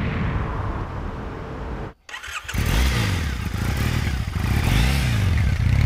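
A Triumph motorcycle engine cranks and fires up after a brief pause, catching with a clattering burst and then settling into a loud, close, throbbing idle with uneven revs.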